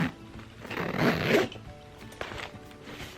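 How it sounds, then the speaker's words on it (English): Zipper on a Steve Madden purse pulled open and shut, a fairly quiet close-up rasp with a longer drawn pull followed by a shorter second run. "So you also have a zipper here."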